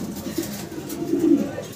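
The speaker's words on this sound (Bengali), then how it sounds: "দর্শক ভিডিও স্ক্রিনে আমরা বিশাল বিগ সাইজের ভিতরে একজোড়া স্টেসার কবুতর দেখতে পারতাছি" A pair of large pigeons kept in a loft coo softly and close by in a low, rolling murmur.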